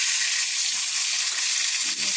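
Brinjal frying in plenty of oil in a well-heated kadai gives a steady, dense sizzle that holds evenly throughout, close and fairly loud with no voices.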